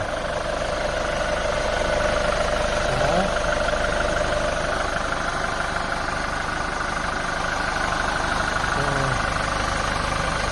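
A steady mechanical drone of an idling Hyundai Starex van's engine, an automatic with 33,000 km, heard in the engine bay, runs throughout at a constant level, with a faint rumble and light rattling underneath.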